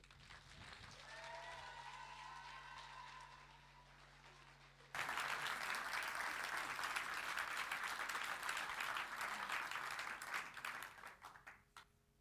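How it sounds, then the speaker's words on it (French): At a TEDx-style talk event, a faint tonal passage gives way after about five seconds to a sudden dense burst of audience applause that holds steadily, then thins and fades near the end. "Merci de l'applaudir bien fort."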